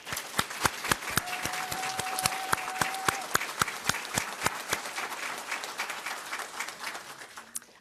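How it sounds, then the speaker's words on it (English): A crowd at a fall graduate commencement and hooding ceremony gives sustained, even applause to the degree candidates. The clapping is dense and steady throughout and tapers slightly toward the end. "Let's give a round of applause to all of our fall 2022 degree candidates."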